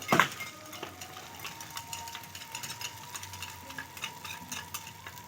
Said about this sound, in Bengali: হলুদ গুঁড়ো জল দিয়েছি ভালো করে গুলিয়ে নেব